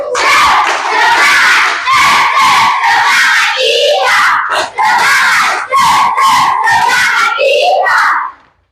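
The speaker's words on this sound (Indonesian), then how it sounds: "yang pertama tepuk semangat koboi" Schoolchildren in a classroom loudly shout a rhythmic cowboy spirit clap chant together in repeated bursts, bright and close, with clapping mixed into the chanting voices.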